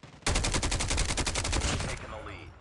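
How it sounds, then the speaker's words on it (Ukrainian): A rapid burst of machine gun fire in CoD Mobile during urban combat, about two seconds of evenly spaced shots, loud and close, then cutting off. "Цей кулемет непогано стріляє,"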